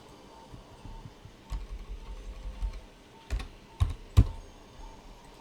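Keys tapped on a computer keyboard while entering numbers, with scattered soft clicks and a few sharper, louder keystrokes near the end, close and without talk.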